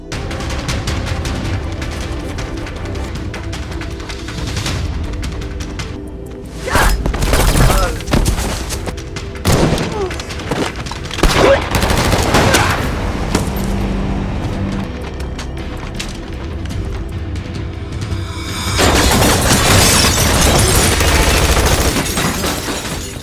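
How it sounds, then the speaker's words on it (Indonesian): Bursts of gunfire and booms in a chaotic action-film shootout, loud and irregular, with shattering and a heavy rumble building toward the end. "Paredes CS langsung melakukan penyerangan dan terjadilah aksi tembak-tembakan."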